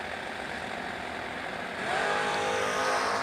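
Drag race cars roar loudly and steadily at an East Coast drag strip, the engine noise swelling midway as the launch builds, with no talk over it.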